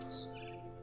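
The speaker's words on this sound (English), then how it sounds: "Then I heard chirping outside my window. It was a barn swallow going back to her nest." A barn swallow in the video game What Remains of Edith Finch gives a couple of faint, high chirps over a steady low ambient drone at night.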